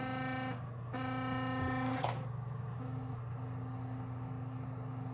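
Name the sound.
electric toothbrush running with head removed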